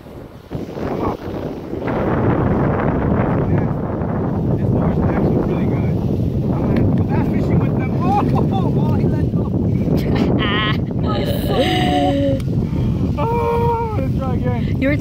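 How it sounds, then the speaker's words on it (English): Strong, steady wind roars across the microphone outdoors on the water during a fishing outing, with possible boat noise beneath; people talk over the constant rushing gusts. "The wind's coming."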